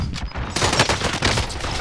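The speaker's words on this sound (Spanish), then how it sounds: "De aquí escucho los tiros." Rapid gunfire in the video game Call of Duty: Modern Warfare 3; dense, loud bursts of automatic shots crackle continuously in a short, busy fusillade.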